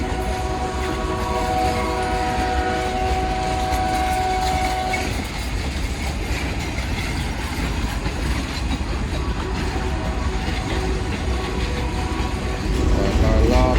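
Freight train hauling a few cars, a sustained horn blast opening over steady rumbling and clickety-clack of wagons, then loud continuous rolling noise close by.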